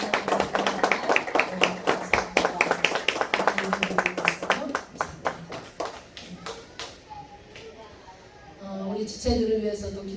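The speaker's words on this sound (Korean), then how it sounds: "박수 한번 드리겠습니다." Church congregation at a Sunday worship service applauding welcomed elderly guests, a steady run of hand claps lasting several seconds before tapering off, followed by a speaking voice.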